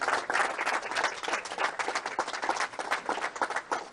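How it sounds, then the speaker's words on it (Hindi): Staff audience at a news organization's event in Bhopal applauding in sustained, steady clapping that stays fairly soft and even throughout, with no talk over it. "जोरदार तालियां बजती रहें"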